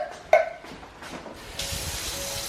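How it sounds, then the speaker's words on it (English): Tap water runs into empty plum tomato tins, a brief knock and clatter of the tin, then a steady close hiss of filling water that swells louder in the last second. "Basically, you fill these with water."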